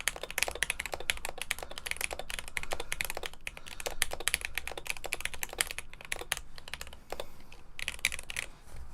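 Rapid typing on a re-lubed BoardSource Mark 65 mechanical keyboard: dense, close clacks of keystrokes in irregular bursts, with brief pauses, and no talking.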